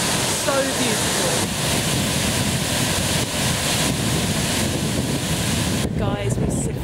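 Water rushing steadily at a waterfall in Mauritius, a loud continuous roar with wind buffeting the microphone, and a brief voice near the end.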